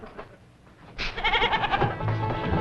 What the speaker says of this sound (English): Your goat, sir.